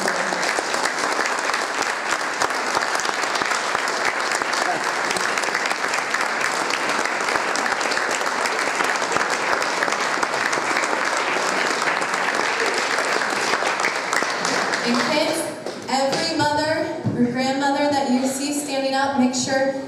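Church congregation at Naples First Church of the Nazarene on Mother's Day applauding mothers and grandmothers: sustained, loud, dense clapping that fades near the end as a voice begins speaking over the room.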